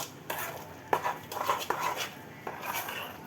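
Spice paste being mixed by hand in a bowl for alu wadi, a few quick scraping and clinking knocks with soft stirring between them, close and fairly quiet.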